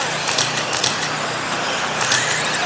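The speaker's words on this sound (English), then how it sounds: "Top 3 cars now on the front straightaway." Race cars on the front straightaway of a raceway, a steady broadband engine and road roar with slight swells as they pass, fairly loud and continuous.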